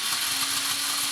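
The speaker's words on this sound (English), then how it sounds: "we're gonna give it just like one more little squizzle with our stick blender here" A stick blender whirs steadily through a pumpkin spice tea latte, a continuous close motor whine with no voices.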